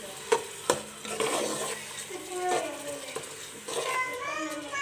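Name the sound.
rice being stir-fried for matar pulao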